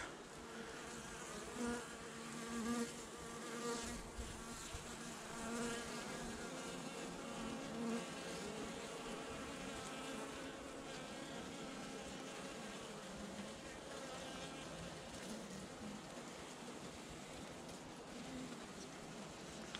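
Honeybees buzz steadily at a November winter hive inspection with oxalic acid treatment, a close, continuous drone of many wings that holds even throughout.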